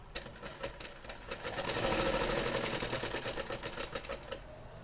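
Sewing machine stitching cloth while making a tassel, a rapid, even needle clatter that speeds up in the middle and then slows, close and steady with no voices.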